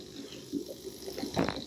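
Water flows and splashes softly from a bubbler in an aquaponics fish tank, a faint, close gurgle with small bubbling bursts and a brief louder splash near the end.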